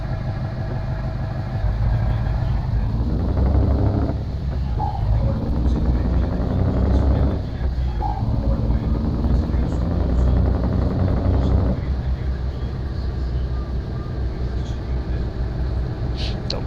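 A simulated DAF XF V8 truck engine in Truckers of Europe 3 drones with a deep, loud rumble that rises and falls in a few pulls, close and steady throughout.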